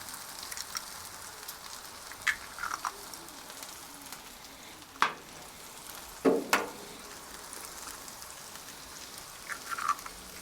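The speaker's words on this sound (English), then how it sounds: "let's go ahead and put our eggs down. So, this makes it real simple to cook your eggs." Eggs fry on a Blackstone griddle in a soft, steady sizzle, punctuated by a few sharp clicks and pops, with no one talking.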